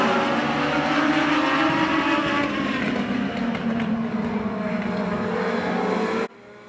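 Legends division race cars roar around Oyster Bed Speedway, a dense, loud wash of engines at racing speed that holds steady for several seconds, then cuts off abruptly.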